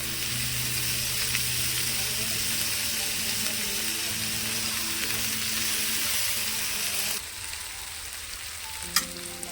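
Cucumber and tomato curry sizzles loudly and steadily in a pan, then drops to a softer simmer near the end, followed by a single metallic clank.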